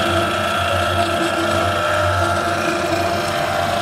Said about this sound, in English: Inside there you see we're running the homogenizer and the scraper agitator at the same time.